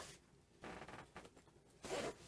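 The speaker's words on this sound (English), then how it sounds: "So it zips all the way around." A zipper running around an Amazon duffle bag, drawn in several quick close strokes with short pauses and a final louder pull.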